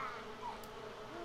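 Steady bee buzzing in The Sims 4, a continuous mid-level drone with small pitch wobbles and no talking, fairly close and even throughout.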